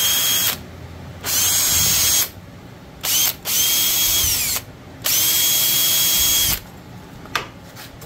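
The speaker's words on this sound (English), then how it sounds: "I also have to drill a pilot hole for those" Power drill boring a pilot hole into an oak frame, in four separate loud bursts of steady whine with short pauses between them, close by and with no talk.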